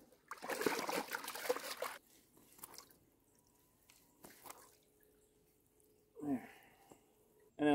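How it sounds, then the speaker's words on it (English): Black bear hide dunked and sloshed around in fresh water, giving a burst of splashing and dripping up front, then quieter trickles and drips, with a couple more short splashes near the end. "with some fresh water, I'm just gonna dunk this in,"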